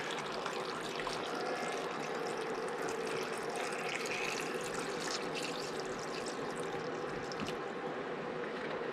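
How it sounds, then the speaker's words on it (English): Water pours steadily into a stew pot over the ingredients, a continuous, quiet splashing rush with no talk, lasting the whole stretch. "I'll pour some water in just till it gets to the top of everything here."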